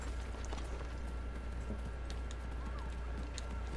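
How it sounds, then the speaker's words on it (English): Horse hooves clip-clop at a run in the video game Assassin's Creed 3, a steady rhythmic patter over a constant low rumble of game ambience. "Get on that horse."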